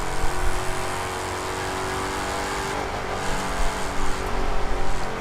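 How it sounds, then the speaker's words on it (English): A Dodge Charger in The Crew 2 racing game roars at high speed, its engine revving continuously and loud with swells of acceleration and brief tire noise, heard alone without talk. "But listen to this Charger."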